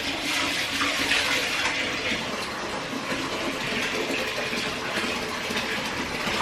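Bath water with Epsom salt pours steadily into a tub in a candlelit bathroom, a constant loud gushing rush with no pauses and no voices over it.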